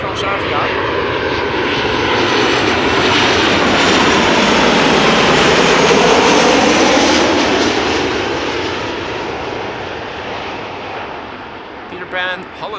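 A Transavia airliner landing at Amsterdam Schiphol, passing close overhead as a loud, wide jet rumble that builds, peaks around mid-clip and then tapers away.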